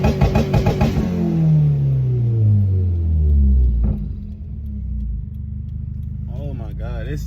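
A Subaru WRX fitted with a PLM non-resonated mid-pipe exhaust revs up hard, the engine note climbing and then dropping back to a deep idle rumble, heard up close with brief crackles near the end.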